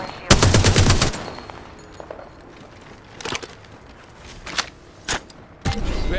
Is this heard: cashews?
no